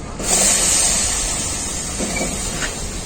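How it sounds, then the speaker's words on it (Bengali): Cut ash gourd drops into a hot wok and sets off a loud, sustained hiss that rises at once and then slowly fades, with faint crackles beneath it. "তো কড়াইয়ের মধ্যে আমি দিয়ে দেবো চাল কুমড়োটা"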